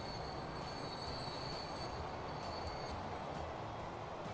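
Freight train arriving with construction materials in the Transport Fever video game, a continuous loud rumble of rolling wagons with high, sustained wheel squeals and faint rhythmic clicks on the rails.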